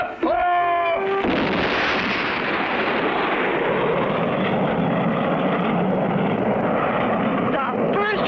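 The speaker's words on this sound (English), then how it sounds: "Then came the final countdown. 2, 1, blast off!" A rocket ship blasting off for the moon in an old film serial: a brief musical tone, then a sudden loud, roaring rush of rocket exhaust that holds steady and dense to the end.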